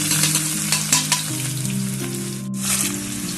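Cumin seeds, bay leaves, cloves and garlic sizzle and crackle steadily in hot oil in a pan for a Rajasthani green bean curry, a close, continuous frying hiss with faint stirring and a low background hum.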